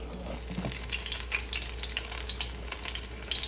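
Beer-battered lobster pieces fry in hot oil, a steady crackling sizzle with small pops, close and continuous.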